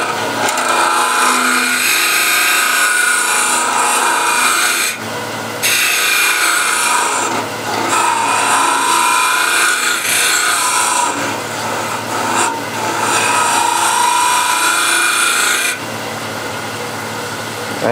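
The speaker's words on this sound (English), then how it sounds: "I'll use this French curve or asymmetric curve scraper" A French curve scraper shaves the bottom of a turned wooden coffee or tea container, a loud, continuous close-up rasping scrape with brief breaks and shifts in stroke.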